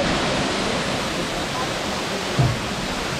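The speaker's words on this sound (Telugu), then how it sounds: "సో ఇదే అబ్బే వాటర్ ఫాల్." Abbey Falls, a waterfall near Madikeri in Coorg, roars in a continuous, loud, broadband rush of falling water, close and steady throughout with one brief low bump partway through.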